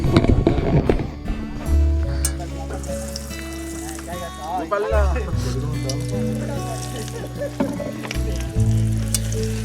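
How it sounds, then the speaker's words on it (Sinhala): Oil sizzles and crackles steadily as fish fingers fry, with a low hum beneath and voices talking over it throughout, at a campsite. "පොඩි ෆිෂ් ෆින්ගර්ස් වල බදින්න යන්නේ"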